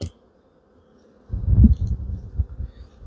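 Honey bees in a large hive colony, a low close buzzing that swells up after a quiet first second and continues with uneven pulses, no voices.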